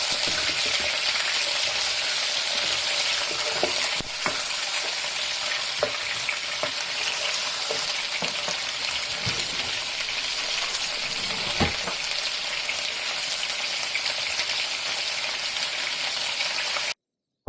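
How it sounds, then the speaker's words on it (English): Ginger garlic paste frying in hot oil for lamb shank nihari, a loud, dense sizzle running steadily throughout with occasional soft scrapes and taps of a spoon stirring the paste around the pan. "Then you can add the ginger garlic paste. Once we add this paste, you want to stir this around in the oil as well so it spreads evenly."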